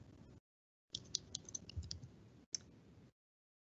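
Fingers typing on a computer keyboard while entering a search for extensions, a quick burst of soft close clicks and taps broken by brief silences, quiet and without talk.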